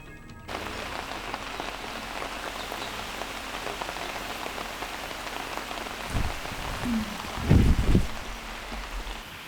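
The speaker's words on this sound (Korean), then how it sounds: "초여름의 시원한 소나기 소리" Steady early-summer rain shower pattering on surfaces, a continuous wash of drops throughout, with a few louder, closer splashes and thumps near the end.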